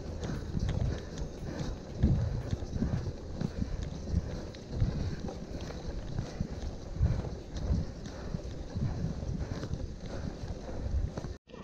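A horse walks toward the Asan Falls view deck, its hooves clopping in a steady, close rhythm over a constant rush of wind for the whole stretch.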